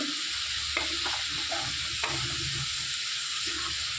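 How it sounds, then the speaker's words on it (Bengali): A paste of onion, tomato and green chili frying in a pan as it is stirred, with a steady close sizzle and a few soft scrapes and taps of the spoon. "পেঁয়াজ, টমেটো আর কাঁচা লঙ্কার পেস্টটা দিয়ে দিয়েছি, দিয়ে ভালোভাবে কষিয়ে নিচ্ছি।"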